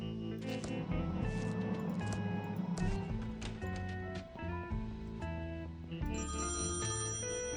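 A telephone rings in the point-and-click adventure game Thimbleweed Park, its bright electronic trills repeating over a busy game music backdrop.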